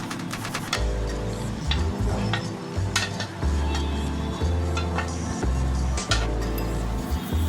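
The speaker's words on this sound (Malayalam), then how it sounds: "ചിക്കൻ ആഡ് ചെയ്തിട്ട് നന്നായിട്ട് മിക്സ് ചെയ്തെടുക്കുക" Pieces of fried chicken are stirred into a tikka masala gravy in a metal pan with a spoon, giving steady close scraping and clinking strokes over a low rumble for several seconds.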